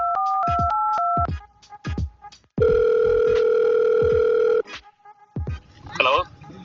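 A phone dials a call to a police station: a quick run of paired keypad beeps, then a long, steady, loud line tone of about two seconds, followed by faint clicks and rustling.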